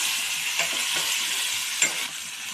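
Cluster bean (gavar) curry is stirred in a hot pan, a steady close sizzle broken by a few soft scraping strokes of a spoon.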